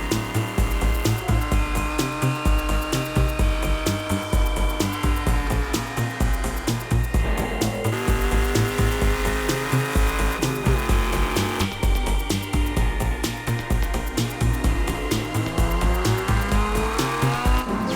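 Race cars roar continuously in a GT Racer video game endurance event at Spa, with dense, loud engine drone, gear shifts and repeated tire squeals, no talk.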